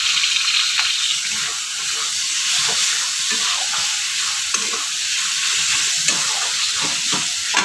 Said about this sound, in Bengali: পেঁয়াজটা একটু দিয়ে একটু কাটিয়ে নেব।